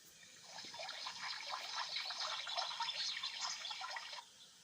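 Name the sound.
watering flowers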